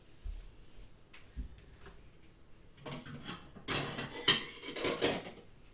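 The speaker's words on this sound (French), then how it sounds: "Vous prenez la petite assiette." A small plate is taken out in a kitchen while cheddar pasta is being made, giving light ceramic clinks and clatters, faint at first and then a busier cluster of rattling knocks near the end.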